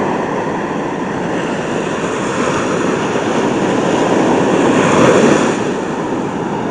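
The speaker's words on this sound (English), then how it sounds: "Pretty big waves." Large ocean waves roll in as a steady, broad roar of surf that builds slightly toward the end, with no voices.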